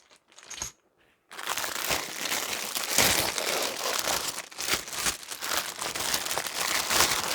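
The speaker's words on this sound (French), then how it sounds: "j'ai du mal à le déballer" Packaging from a Warhammer Stormbringer magazine issue is torn open and crumpled, a brief rustle then a continuous loud, close crinkling and tearing of plastic and paper.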